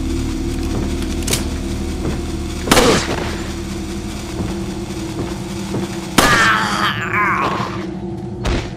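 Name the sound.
dynamite stick shot and exploding in video game Resident Evil 4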